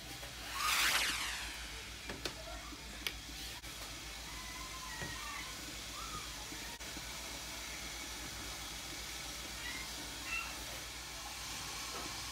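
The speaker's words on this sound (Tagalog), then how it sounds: "Tamang-tama, kumulo na yung aking steamer." A kitchen steamer boils for steaming puto, giving a constant broadband hiss after a brief louder burst of steam near the start, with faint clinks scattered through.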